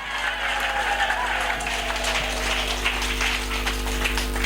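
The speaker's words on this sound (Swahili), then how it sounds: "Piga makofi ya kishindo kwa Yesu Kristo." Congregation clapping loudly in a church service, dense continuous applause with crowd noise and a voice speaking over it.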